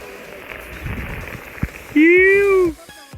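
Steady heavy rain hisses throughout at Torna Fort during a trek, broken by a brief loud shouting voice near the end.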